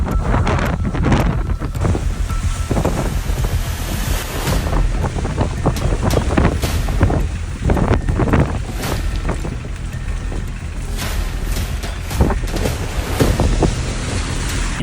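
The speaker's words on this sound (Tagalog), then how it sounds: "sobrang lakas na ng hangin at hindi na namin kinakaya" Strong, gusting storm wind pounds the microphone without letup on a rainy mountain road in Sagada, a loud, rough roar that swells and dips over the whole stretch with no voices.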